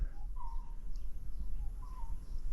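Small birds in open fields on a Thai island give a couple of short, clear whistled calls at a moderate distance over a low background rumble.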